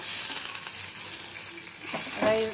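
Whole spices such as cinnamon, cloves, cardamom, pepper and dried red chillies being dry roasted and stirred in a pan after onions have softened, a soft continuous sizzle with scraping, louder near the end, no talking.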